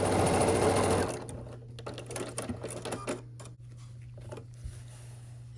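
A sewing machine stitches the final seam of a scrappy sampler quilt block, starting with a loud, steady run of stitching for about a second, then dropping to a quieter hum with light clicks and fabric handling.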